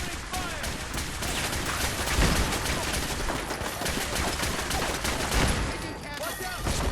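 Gunfire in the video game Fallout 4 comes as a loud, dense, rapid volley of shots that runs for several seconds, with occasional game sounds mixed in.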